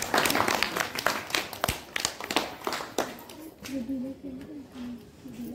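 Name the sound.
loud applause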